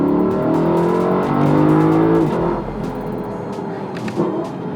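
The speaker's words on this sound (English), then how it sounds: "the 5-litre engine in this LC500 is an absolute cracker" A 5-litre engine in a Lexus LC500 revs hard, its loud, near roar rising and holding for a couple of seconds before easing back to a lower, steady drone with a brief blip near the end.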